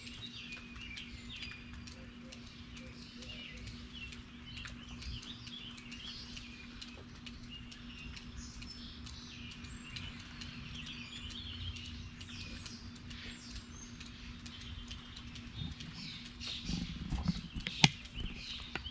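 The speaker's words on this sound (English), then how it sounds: "let you guys listen to all the birdies" Small birds chirp and tweet around a bird feeder in a quiet front yard, scattered faint calls over a low steady hum, with a few louder knocks near the end.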